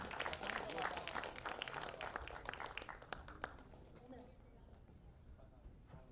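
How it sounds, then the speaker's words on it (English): Crowd applause at a Bollywood film trailer launch event, loud dense clapping at the start that thins and fades toward the end, with some voices mixed in. "Everybody, please clap for them."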